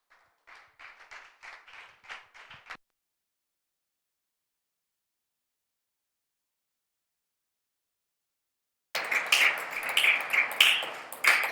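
A church congregation applauding to acclaim the Lord: brief light clapping, then a long silence, then fuller, louder applause that swells near the end.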